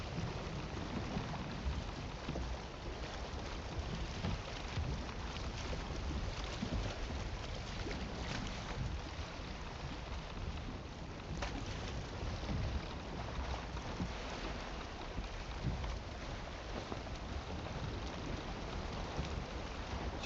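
A sailing boat crossing ocean waves in the game Valheim: continuous washing, splashing water and hull noise at a steady moderate level for about twenty seconds, without talking.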